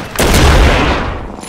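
Gunfire in the video game Apex Legends: a loud, close burst of rapid shots that booms in at once and stays heavy before tailing off, with no talk over it.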